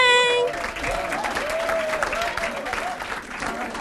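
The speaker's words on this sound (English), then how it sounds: "Tony, you got a little cheering section over here." An audience at a nonprofit grants event applauds and cheers, with steady dense clapping throughout and a voice carrying over it.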